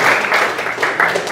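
Students applauding in a classroom, a dense steady patter of many hands clapping together for just over a second.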